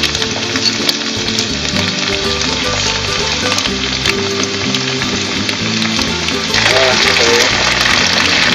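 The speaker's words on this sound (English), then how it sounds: "I'm going to put the onion and garlic into a pan." Onion and garlic fry in a pan for a Spanish tortilla, giving a loud continuous sizzle and crackle that grows slightly stronger toward the end, with stirring noises mixed in.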